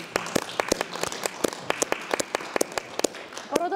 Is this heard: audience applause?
yes